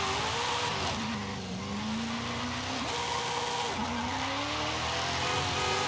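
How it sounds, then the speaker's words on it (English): A built RX-7 fitted with a V8 drifts in Forza Horizon 5, its engine droning loudly with pitch rising and dipping through gear changes while tires squeal steadily underneath. "Lots of torque from this engine though. From the V8."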